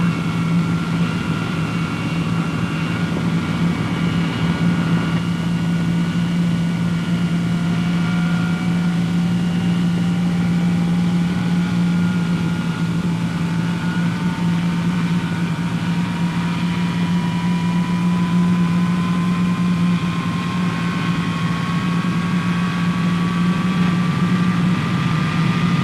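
A B-47 Stratojet jet engine starts up: a loud, constant low roar with a whining tone that climbs steadily in pitch as the turbine spools up, no speech.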